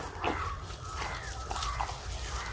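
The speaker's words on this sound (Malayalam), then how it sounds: "ഇതാണ് അപ്പോൾ പട്ടിക്കുട്ടി" A puppy just pulled from a muddy canal gives a few thin whimpering yips and small barks, close by, over a constant outdoor hum.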